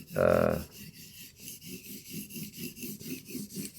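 Knife blade sharpened on an abrasive surface, a rough crunchy rasping in a steady back-and-forth rhythm of short strokes, close and fairly quiet after one louder opening burst.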